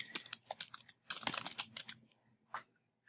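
Quick, close keystrokes rattle on a computer keyboard as details are typed into an order entry screen, bursts of clicks with short pauses between, quiet and isolated.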